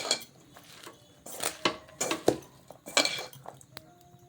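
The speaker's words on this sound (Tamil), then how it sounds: "வாழைப்பூ பருப்பு உப்பு கருவேப்பிலை எல்லாம் போட்டு வெங்காயம் ஜீரகம் பெருஞ்சீரகம் பூண்டு இஞ்சி எல்லாம் போட்டு பிசைஞ்சு கொண்டிருக்கேன்" Banana flower vada batter of lentils, onion, cumin, fennel, garlic, ginger and curry leaves being mixed by hand in a bowl, giving repeated close clinks and scrapes against the vessel in short irregular bursts, with no talking.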